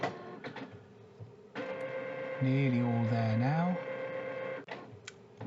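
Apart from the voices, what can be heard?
printer printing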